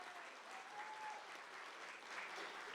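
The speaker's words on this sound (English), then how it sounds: "Let's give him one more round of applause." Audience applause for Professor North at a spring semester opening-day welcome event, a steady wash of clapping from a crowd that holds an even level for the whole stretch.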